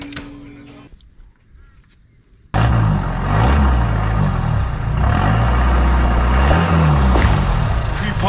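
Turbocharged 4WD engine revs hard and loud from about two and a half seconds in, with rising and falling turbo spool whine over a steady low rumble, after a quieter opening.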